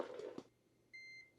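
A PC beeps during a power supply test, giving one short electronic beep of about a third of a second after some faint handling noise, with a brief click at the end.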